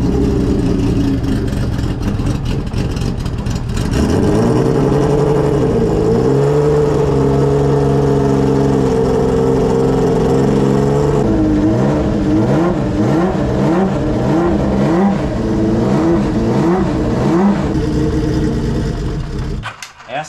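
Six-cylinder motorcycle engine idling steadily up close in a garage, with a lumpy, layered rumble that rises into a few revs and wavering throttle blips toward the end.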